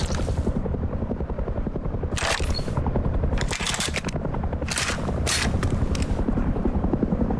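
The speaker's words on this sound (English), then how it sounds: "It feels like the attack helicopter is looking for people." Attack helicopter in the game Rust flying close by, a steady loud rotor drone filling the whole stretch, with bursts of machine-gun fire breaking through at intervals.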